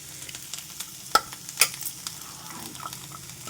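Ridge gourd pieces stirred while frying in a pan with turmeric, giving a soft steady sizzle with a couple of distinct spatula clacks and light scraping.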